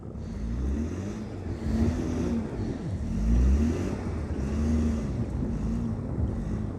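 A fairly tall car drives through a snowstorm in Vladivostok, giving a low, muffled engine rumble under gusting wind noise that swells and fades, with no voices.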